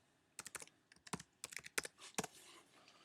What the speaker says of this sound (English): let's type in COT reports